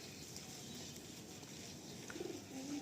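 Pigeons cooing softly in a pigeon loft, faint low murmuring coos under a steady hiss of background noise, becoming a little more noticeable toward the end.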